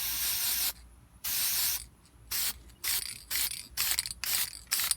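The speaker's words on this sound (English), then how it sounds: "give it a nice little mist across it" Spray paint from an aerosol can misted in light bursts onto a Honda Civic grill: one long hiss, then a series of shorter spurts with brief gaps, close by.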